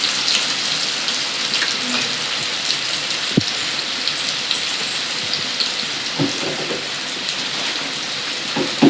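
Finely chopped onion with mustard seeds, fenugreek and cumin sizzles in hot oil for a sambar tempering, giving a steady hissing crackle with occasional sharper pops, close and continuous.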